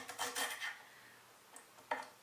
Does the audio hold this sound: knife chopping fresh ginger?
yes